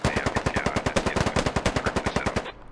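Sustained automatic gunfire from a military video game: a rapid, evenly spaced burst of about thirty loud, sharp shots over roughly two and a half seconds, then it stops abruptly.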